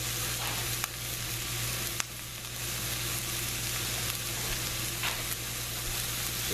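Butter sauteing in a pan for encrusted salmon, a continuous dense sizzle heard close with a couple of sharp clicks from the pan and a steady low hum underneath, no talking.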